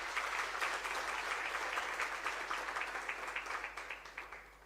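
Audience applause at a lecture honouring a South African anti-apartheid activist, a dense steady clapping from a large crowd that holds strong and then slowly thins toward the end.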